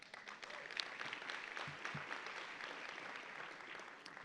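An audience at a women's leadership luncheon claps, a faint, distant wash of scattered applause with a few sharper hand claps standing out.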